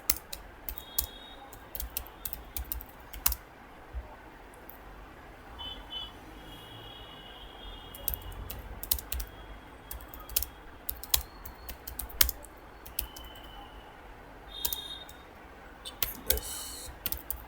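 Typing on a computer keyboard, soft irregular clicks in bursts, close and quiet, with a few louder taps and no talk.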